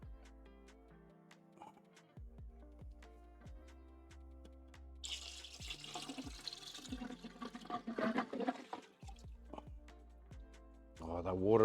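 Water with kombu poured from a container into a cooking pot while making Japanese beef curry, a splashing, gurgling pour rising in the middle and running for several seconds, with clinks and kitchen handling before it.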